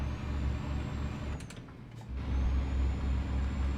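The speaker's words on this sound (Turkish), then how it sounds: "Bu arabanın kendine has bir egzoz sesi var." A heavy truck engine in Euro Truck Simulator 2 rumbles steadily with a deep exhaust drone, briefly dropping off mid-clip before surging back loud and close.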